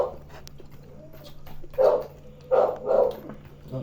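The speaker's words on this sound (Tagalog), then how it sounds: "Ang ingin ng aso." A dog whines and yips in a few short, high, nasal bursts, close by, over a low steady hum.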